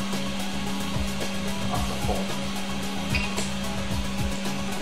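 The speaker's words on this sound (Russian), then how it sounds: "Принтер паркуется," A 3D printer homing its axes: a steady motor whine hums throughout, with faint repeating whirs and small mechanical clicks as it moves, no speech.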